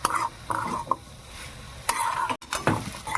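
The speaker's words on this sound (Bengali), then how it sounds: "চিনিটা দিয়ে একটু নাড়াচাড়া করে নেবেন।" A spatula stirs sugar into a dry vegetable curry filling in a pan, with a few scraping and clinking bursts plus a light sizzle, close and clear with no voices.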